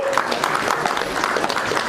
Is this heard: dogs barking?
no